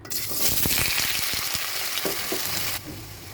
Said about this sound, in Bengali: চুলায় একটু তেল দিয়ে দিয়েছি এবং তেলটা একটু গরম হয়ে চলে আসছে। এখন আমি আলুগুলাকে একটু হালকা ভেজে নিব।